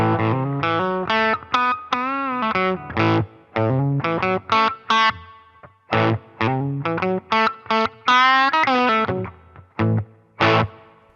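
Electric guitar played through a Line 6 Pod Go preset modeled on the normal channel of a Fender Deluxe Reverb amp, a loud run of chords and single notes with short pauses between phrases, heavily colored and distorted, with no voices.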